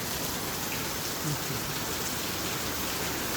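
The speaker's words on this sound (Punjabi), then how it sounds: "ਫੁੱਲ ਤੇਜ਼ ਬਰਸਾਤ ਪੜ ਰਹੀ ਹੈ" Heavy monsoon rain pours steadily in a Punjab village during flooding, a dense, constant roar of falling water that stays loud and unbroken throughout.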